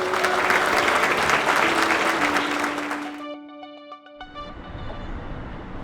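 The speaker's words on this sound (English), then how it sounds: "ask the audience to join me in a big round of applause" Audience at a graduation ceremony giving a big round of applause, loud dense clapping that fills the first three seconds and then cuts off abruptly to quiet room tone.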